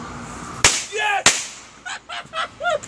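Firecrackers thrown at friends burst in two sharp, loud bangs a moment apart, with goose-like honking squeals and excited voices between and after the blasts.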